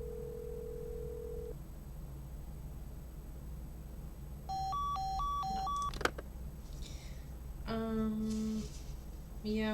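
On an in-game phone in Nancy Drew: The Secret of the Scarlet Hand, a steady tone sounds and then gives way to a quick run of keypad dialing beeps and an answering ringback pattern, clear and electronic over quiet background hum.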